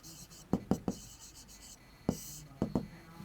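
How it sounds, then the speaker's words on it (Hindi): Pen or marker writing out a maths solution for an arithmetic progression problem, heard as a few sharp scratchy strokes in two short bursts with quiet gaps between them. "तो सॉल्यूशन लिखते हैं."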